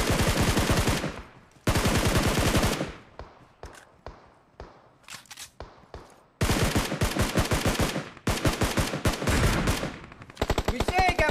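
Rapid automatic gunfire rattles loudly in BGMI, coming in long sustained bursts split by scattered single shots and short pauses, with faint talk in the background.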